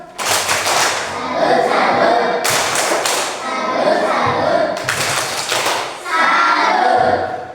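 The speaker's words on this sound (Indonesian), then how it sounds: "Oke, kita memberikan tepuk salut. Tepuk salut." Children in an elementary classroom perform a rhythmic group clap, bursts of sharp, close hand claps and thuds separated by short pauses, with young voices chanting along between them.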